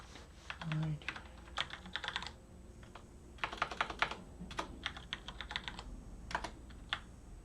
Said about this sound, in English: I've got a mechanical keyboard